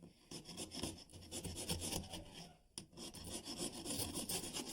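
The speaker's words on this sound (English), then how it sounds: "You'll actually scrape it, and you'll actually feel the grout pop out if it's going to pop out." Hand tool scraping old grout from bathroom tile joints: a steady, close rasping scrape in continuous strokes, with one brief pause partway through.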